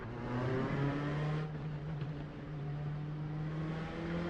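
An LMP2 race car in a Le Mans practice session in a sim racing game cruises at a steady pace, its engine a constant droning hum with a slight dip partway through and otherwise no change in note.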